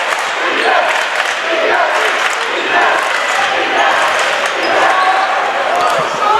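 Crowd cheering and roaring at a high school varsity boys' basketball quarterfinal, Portland High versus Windham, a loud sustained din filling the gym with a commentator talking over it.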